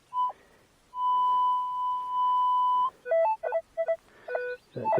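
Metal detector held over shallow ground emits a long, loud steady tone, then a string of short choppy beeps at shifting pitches as it sweeps back and forth.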